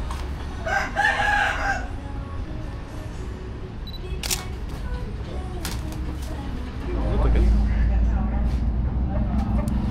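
Roosters crowing at a rooster shop near the White Temple in Chiang Rai, heard as a few loud calls near the start amid camera shutter clicks and background noise, with a steadier rumble later.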